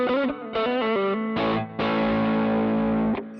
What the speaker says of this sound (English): we've got a screamer, tube screamer.